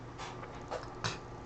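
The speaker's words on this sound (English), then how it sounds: "very, very nice and expensive dog" A dog whimpers softly with light panting, faint and close, a couple of brief whines standing out over a quiet background.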